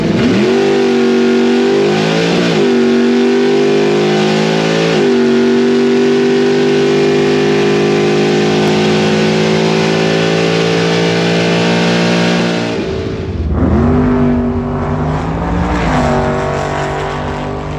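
A bracket drag racing car launches down the left lane on a time run, its engine roaring loud and close as it climbs through gears with rising pitch, a brief drop at a shift and then another surge, no voices.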